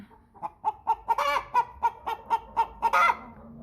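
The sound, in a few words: American Bresse hen squawking loudly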